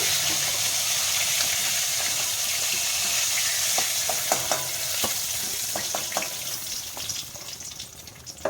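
Ban eel fish frying in hot oil, heard up close as a dense continuous sizzle with scattered spatula scrapes and taps that grow more frequent as the frying settles slightly quieter.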